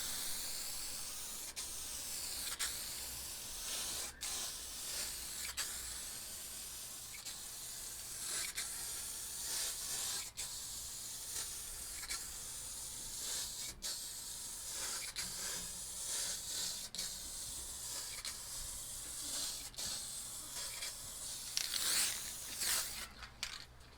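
Clear coat sprayed from an aerosol spray paint can over a planet painting, a steady close hiss running continuously with brief pauses and bursts over about twenty-four seconds, no talking.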